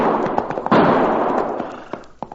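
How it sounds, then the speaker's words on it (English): A quick volley of gunshot sound effects in an old-time radio drama, sharp cracks over a reverberant noisy wash, with a couple of final pops near the end. "Not only did I hear those gunshots, Cherokee"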